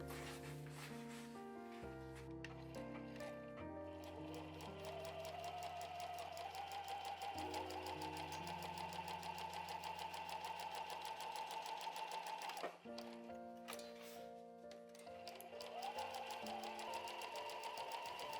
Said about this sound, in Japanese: そして周囲をミシンで縫いますよ。